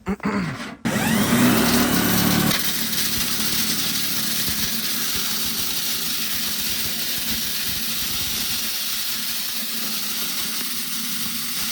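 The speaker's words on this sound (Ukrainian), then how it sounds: "І дрелька не димить легше стало, бо тому що вес зменшився" An electric drill spins a modified stainless steel bee bread extractor, a loud continuous whir with a brief stop and restart near the beginning, then a steady, slightly rough drone that holds to the end.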